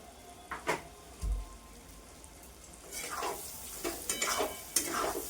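Mango pieces frying with turmeric in a pan, quiet at first with a few clinks, then a steady close sizzle with stirring scrapes and light knocks.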